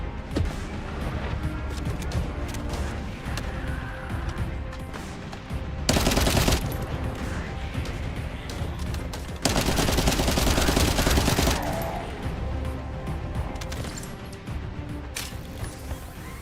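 Rapid automatic gunfire in The First Descendant rattles in sustained loud bursts, with two especially intense stretches of continuous shooting around the middle, over a busy game soundtrack with little talk.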